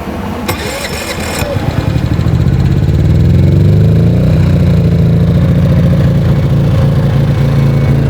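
EcoFlow dual-fuel generator running on gas: a loud, steady mechanical engine drone close by, preceded by a short burst of rapid clicking at the start, with the rumble building and holding.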